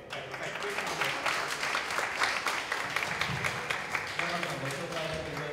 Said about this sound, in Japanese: セッションチェアの池内さんにこの座の進行をお任せしたいと思いますが、皆さん拍手でお迎えください。